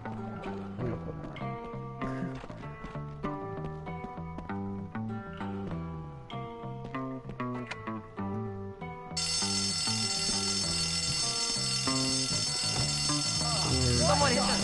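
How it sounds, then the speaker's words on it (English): A fire alarm pulled in the Bully video game kicks in partway through, a loud continuous high ringing that swamps the busy background music and keeps going to the end. "I pulled the alarm."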